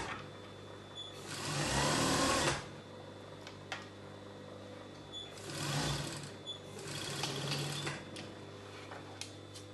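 An industrial sewing machine stitches a half-inch seam on a circle skater dress, running in three whirring bursts of a few seconds each. A steady motor hum continues in the gaps between them.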